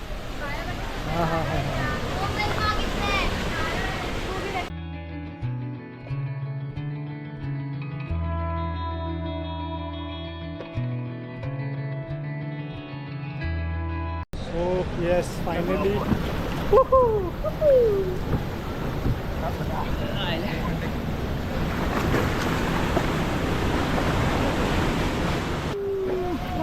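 Lanchundi waterfall near Panvadi rushes as a steady broadband roar at the start and again for the last half, with a person talking over the water; in between, the rush gives way to music.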